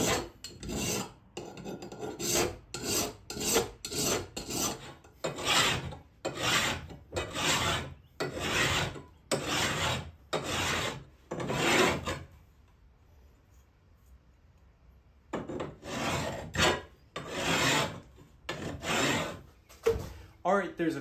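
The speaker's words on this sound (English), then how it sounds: "big horse hoof file, which doesn't work very well on hard metal, but it does work well on soft steel" A big horse hoof file rasps against a soft steel spike in steady back-and-forth strokes, loud and close, then pauses for a few seconds before the rhythmic filing starts again.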